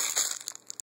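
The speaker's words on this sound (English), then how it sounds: "And then go ahead and add your crushed ramen." Crushed dry ramen noodles are poured into a salad, making a short crackly rustle of brittle pieces that tapers into a few scattered clicks and then stops abruptly.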